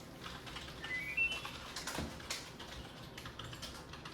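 Rapid typing on a computer keyboard, a steady patter of close, light key clicks with a few louder taps, heard alone without talk.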